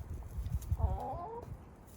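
A garden chicken lets out a short clucking call in the middle, moderately near, against low rustling and background noise.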